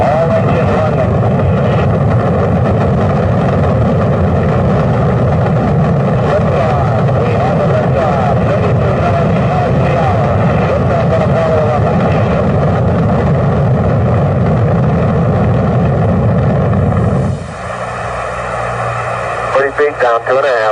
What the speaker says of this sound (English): 0. All engine running.